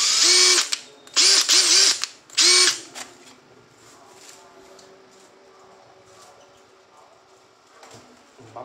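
A cordless power tool fitted with a 3A battery whirs up in several short close bursts, then goes quiet, leaving faint background noise and small knocks.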